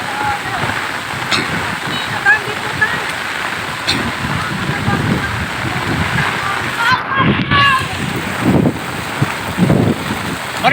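Fast-moving flood water from heavy flooding in Isabel, Leyte rushes in a steady broadband roar with splashing surges and wind buffeting the microphone, and voices talk briefly over it.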